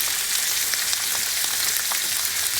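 Butter sizzling in a hot pan alongside a reverse-seared tomahawk steak, a dense continuous hiss of frying with faint crackles, loud and close.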